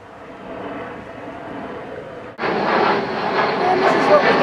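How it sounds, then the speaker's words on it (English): A small propeller plane passes low over a suburban backyard, its engine drone swelling suddenly louder halfway through and holding as a broad, near roar. "But that's only a little plane."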